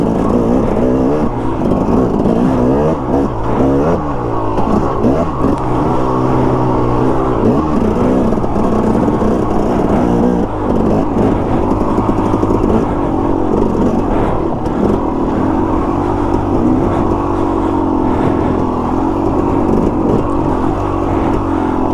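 A KTM dirt bike ridden over small whoops: a loud, continuous engine roar, close by, with rising and falling revs as the bike works through the bumps.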